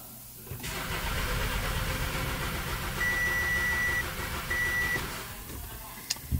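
A 2016 VW Beetle with a no-start fault cranks over steadily for several seconds, a continuous mid-loud churning drone with a brief electronic beep partway through and a faint click near the end.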